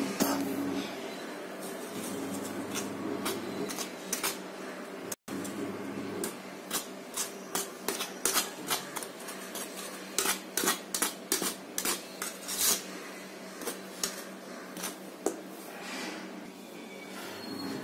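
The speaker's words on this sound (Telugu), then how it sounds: "బాగా మిక్స్ అయ్యాక నూనె ఐ మీన్ నెయ్యి వేసి శుభ్రంగా కలుపుకుందాం." Dough being mixed with ghee in a bowl, giving irregular clinks and scrapes of a utensil or fingers against the bowl, sparse at first and then quicker, fairly close and without talk.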